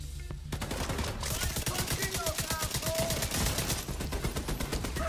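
An enemy turret in The Division 2 fires in rapid automatic bursts, loud and close, a dense stream of shots with a brief pause near the start.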